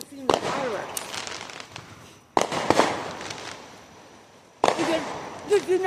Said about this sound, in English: I just care about seeing the fireworks.